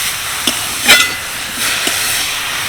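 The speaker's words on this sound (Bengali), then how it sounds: "নুন দিয়ে ভালো করে সবজিগুলোকে ভেজে নেব।" Vegetables sizzle in a hot pan with salt while cooking down into a vegetable momo filling, a steady close hiss with a few soft stirring knocks, no voices.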